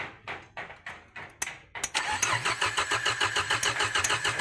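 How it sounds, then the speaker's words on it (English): A Peugeot 406 whose engine has just been replaced cranks in several rhythmic bursts, then catches and fires up into a steady, lumpy idle, loud and close with no talk. "At least you can hear how the engine reacts."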